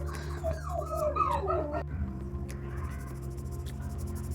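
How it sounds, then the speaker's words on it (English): Pet dogs indoors give a string of high whimpers and yips, then a sharp bark, fairly close over a steady low hum. "Please forgive my noisy dogs"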